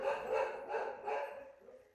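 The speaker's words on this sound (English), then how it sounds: "There goes my dogs." Dogs barking indoors at a distance, several muffled barks in a loose rhythm, fairly faint and with no voices.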